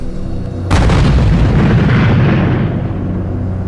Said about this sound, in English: There's been another explosion in a similar direction about an hour and 10 minutes after the last.